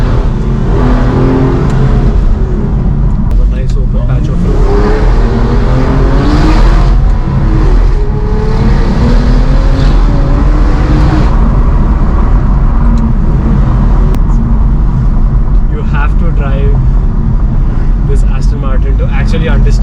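An Aston Martin DB9 with a V12 engine accelerates hard on an open road, its loud, rising and falling roar sustained from inside the cabin. Wind and road noise mix in, and someone talks over the engine.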